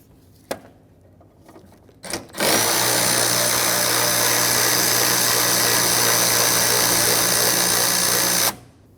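A power tool spins out an 8mm mounting bolt from a vehicle bracket on a 2000-2005 Ford Excursion, one loud steady whir of about six seconds, close up, after a few small clicks, with no voices.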